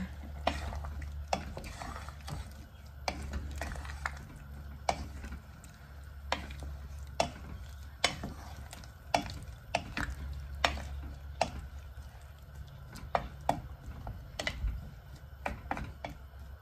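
Thai green curry with chicken and eggplant, seasoned with fish sauce and sugar, gets stirred in a pot: a steady run of soft spoon clicks and scrapes against the metal over a low simmering rumble.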